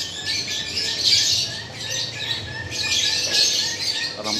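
Birds squawk and chirp steadily over a constant background hum in an aquarium and pet shop in Bogor, with no voices, the calls rising and falling in loudness.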